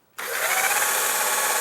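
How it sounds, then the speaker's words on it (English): A power drill bores pilot holes into wood for a bookcase build, starting abruptly and then running as a steady, close, continuous whine with no talk. "Okay, let's go ahead and drill away."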